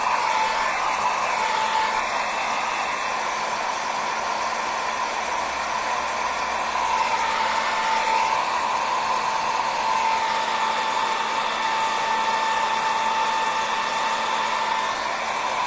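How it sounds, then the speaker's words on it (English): A blow dryer is drying stenciled paint on paper, giving a steady, close whoosh and hum that runs unbroken at an even level from start to finish. "I'm going to hit it with the blow dryer, I think."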